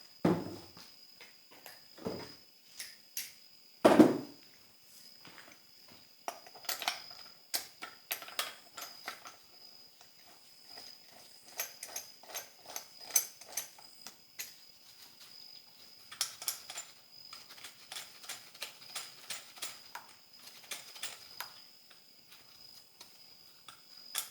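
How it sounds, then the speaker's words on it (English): Bolts are loosened one by one from a BMW M54 engine during a teardown, a sparse series of close metallic clicks, taps and ratchet-like ticks with short pauses between them, fairly quiet, no voices. "So now we'll just go ahead and take the bolts off."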